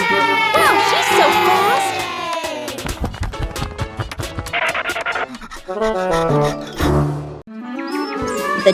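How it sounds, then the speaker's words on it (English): Animated crowd cheering at a cartoon race, a loud, dense roar of excited voices and children's shouts, with musical and scratchy effects layered through it and brief dips in level. "The cheers from the crowd get louder, and the tension rises."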